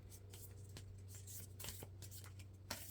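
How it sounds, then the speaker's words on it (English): Brand-new oracle cards, slightly stiff, being overhand shuffled by hand, giving soft riffling card flicks in irregular bursts over a steady low background hum. "These cards are brand new, and so they do stick a little. And I try to overhand shuffle them"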